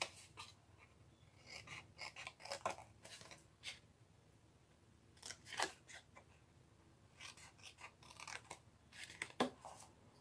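Scissors snipping small pieces from a cardstock gift card holder during a papercraft project, a series of short, crisp cuts in uneven bursts, close and quiet, with no talking.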